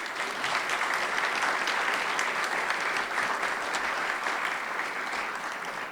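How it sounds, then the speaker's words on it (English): Banquet audience at a Washington defence media awards evening applauds steadily, a full, even wash of many hands clapping that holds for several seconds before easing slightly at the end. "So, yes, round of applause for the Press Club."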